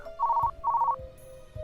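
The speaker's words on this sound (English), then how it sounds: "The phone rings and Miu picks up the receiver." A telephone rings in a Dracu-riot! visual novel scene with two clear electronic ring bursts, each a rapid warbling trill, separated by a short pause, over quiet background music.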